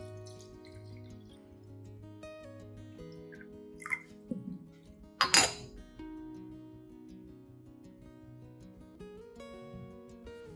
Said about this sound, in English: Pour the diluted banana peel solution into a clean watering container.